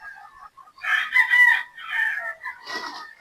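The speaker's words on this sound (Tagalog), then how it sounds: "Ayan po yung ating mga Boston Roundhead pulit." Boston Roundhead pullets at a game farm cluck and crow: several loud, close bursts of warbling fowl calls with brief gaps between them.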